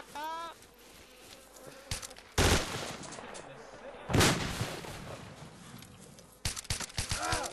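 Muffled, suppressed gunshots in the DayZ survival game, set in a zombie-filled town; a few sharp, brief broadband bursts stand out at moderate level amid game ambience, with people talking in between.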